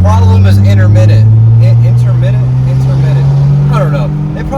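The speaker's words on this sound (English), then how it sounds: "You see me revving out, I'm hitting VTEC" A turbocharged Acura TSX engine hums loudly up close, its pitch rising and falling as it revs into VTEC, with an intermittent sluggish, delayed response, while someone talks over it.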